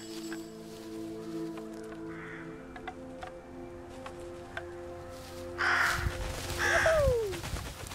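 Birds caw in the snowy adventure game Röki, with scattered sharp calls over a soft background score, rising to a louder flurry of cawing and flapping near the end.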